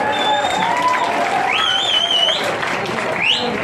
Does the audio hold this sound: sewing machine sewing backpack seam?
no